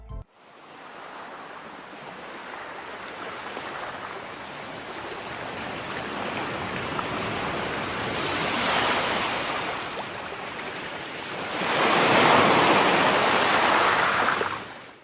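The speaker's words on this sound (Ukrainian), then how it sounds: "Як же гарно шумить море!" Steady rushing surf of sea waves, swelling twice into louder washes before easing, continuous and close with no voices.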